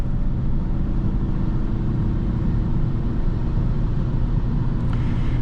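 Peugeot 508 SW estate, a 2015 car with the 1.6 e-HDI diesel of 115 hp, accelerating hard on kickdown: steady, loud low engine drone and road rumble heard from inside the cabin, continuous with no voices.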